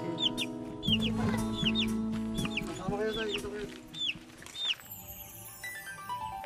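Repeated high, thin chirps from a chick ring out over a low hum and chicken clucking, with brief voices in the background.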